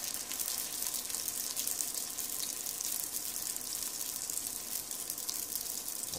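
Nems, partly submerged, frying in hot oil in a pan, giving a steady soft sizzling hiss that stays even and fairly quiet throughout, with no voices.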